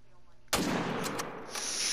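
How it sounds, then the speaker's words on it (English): A rifle shot rings out in the hunting game theHunter: Call of the Wild, one sudden boom followed by a long rolling echo across the landscape. "I heard that shot from here."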